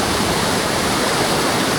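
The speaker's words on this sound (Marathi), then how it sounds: "पुढून धबधबा" Kondeshwar Waterfall near Kamshet in monsoon season, a loud, steady roar of rushing, falling water, close and continuous with no voices.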